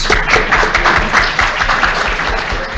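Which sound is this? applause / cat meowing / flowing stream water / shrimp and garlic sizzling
applause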